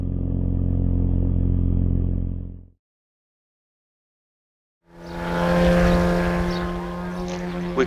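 A semi-scale model airplane performing an aerobatic snap manoeuvre, its engine buzzing loudly, cutting out for about two seconds, then roaring back in.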